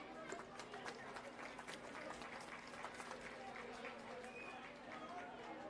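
Applause greets the Chief Minister at a public event, a dense, steady patter of many hands clapping from a crowd, slightly distant and sustained throughout.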